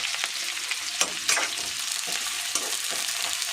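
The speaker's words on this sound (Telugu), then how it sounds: "ఆయిల్ అయితే బాగా కాగింది దీంట్లో ఉల్లిపాయ పచ్చిమిర్చి వేసేసుకుందాం" Onion and green chilli frying in hot oil for potato curry give a steady, close, bright sizzle with crackles and a few sharper scrapes of stirring, no voices.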